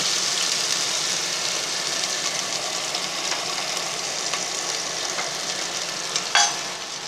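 Ginger garlic paste sizzles loudly in a pan of hot oil and ghee, a dense continuous crackle with a few utensil scrapes and a brief clatter near the end.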